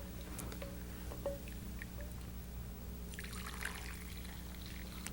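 Honey, orange and lemon syrup pours steadily into a bowl in a kitchen, a soft continuous trickle and splash over a low background hum, with no talking.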